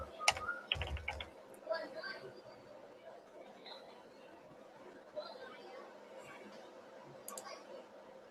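Fingers type on a computer keyboard in a short burst of close clicks near the start, then trail off into sparse, quieter taps over a low background hum and faint voices.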